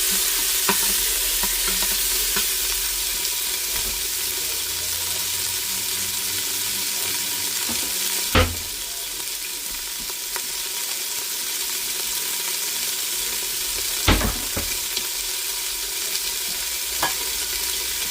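Beef sautéing on high heat in a pan for a stew, a steady, bright sizzle running throughout, with a couple of sharp clanks of a utensil against the pan.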